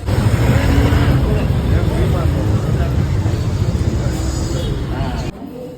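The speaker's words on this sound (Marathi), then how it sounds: "फ्लॉवरची गाडी आली नाशिकवाली आली ही गाडी" A flower delivery truck from Nashik pulls up, its engine a steady low rumble that stays close and loud for about five seconds before cutting off, with voices talking over it.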